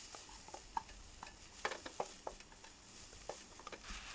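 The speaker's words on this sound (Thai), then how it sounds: "เอาหัวหอมและพริกหยวกมาผัดเข้าด้วยกัน ผัดไปเรื่อยๆ จนรู้สึกว่ามีการเปลี่ยนสีเล็กน้อยนะครับ" Onion and bell pepper being stir-fried in a pan, heard as a soft steady sizzle broken by scattered scraping clicks from stirring, faint and fairly close, with no voices.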